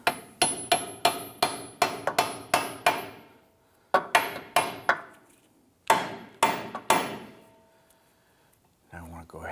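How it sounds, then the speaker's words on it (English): A hammer drives a wedge chisel into the lower knuckle pinch bolt of a 2008-2013 Nissan Rogue during CV axle replacement. Sharp, close metallic blows come in quick runs of about eight, four and four, with brief pauses between runs. "install a chisel into the back side here to open up this pinch bolt on the lower part of the knuckle"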